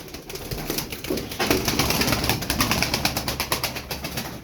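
A flock of pigeons coos in soft, rhythmic pulses at close range, with wings flapping now and then among the calls.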